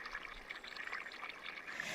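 Marsh water pumped into curlew pens trickles and pours in a steady, gentle stream, fairly quiet and close, with no talking.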